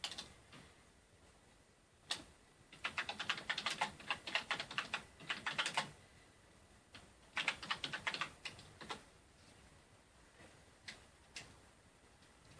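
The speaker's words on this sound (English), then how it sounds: "I personally prefer to use a USB keyboard plugged into the front of my PS4 to allow me to type much easier and faster." Typing on a USB computer keyboard plugged into a PS4, with bursts of rapid clicky keystrokes separated by pauses and scattered single key taps, close and clear.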